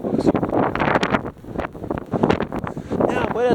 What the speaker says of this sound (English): Yeah, boy, that's not windy as hell.